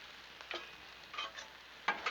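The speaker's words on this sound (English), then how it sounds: "Let's stir up the beef." Thin shaved beef stirred on a Blackstone griddle, with a faint sizzle and a few soft scraping strokes of the spatula, close and quiet.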